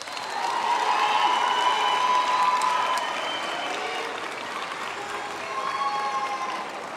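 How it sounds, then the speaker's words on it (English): A large graduation ceremony audience claps for the lecturers, dense sustained applause filling the hall for several seconds at a steady level, with faint cheering mixed in. "So please turn to them and also applaud them."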